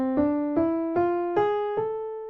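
Melody in the harmonic minor scale, five separate sustained notes that climb step by step, each struck clearly and left ringing, with no voice.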